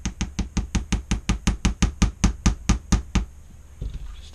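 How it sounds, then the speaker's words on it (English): A hammer taps a trigger pin into a Canik TP9SFx pistol in a quick, even run of about fifteen sharp, close strikes, then stops, leaving a faint quiet scrape. "I'm going to hammer this down just a"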